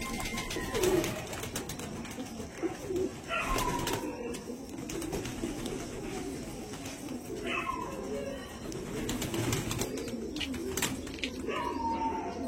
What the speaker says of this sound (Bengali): পায়রা বাচ্চা একটা